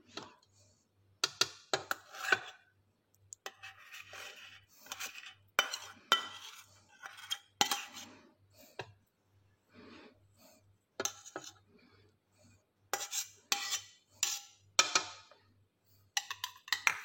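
Peach-shaped pao bun dough briefly mixed with white butter, heard as intermittent close bursts of scraping and stirring with short pauses between them, over a faint steady hum.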